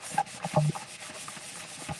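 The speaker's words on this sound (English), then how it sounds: "I'm just gonna do a quick little sanding" Worn, falling-apart sanding block rubbed by hand over a craft surface, giving soft, close scratchy strokes in a quick irregular rhythm with no talking.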